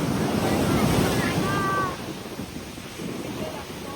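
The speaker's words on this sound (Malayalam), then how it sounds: "കടലിലെ വെള്ളമടിക്കുന്ന തിര നോക്കി" Ocean waves surge and wash onto Shanghumukham beach, a steady loud roar with wind buffeting the microphone, easing slightly partway through.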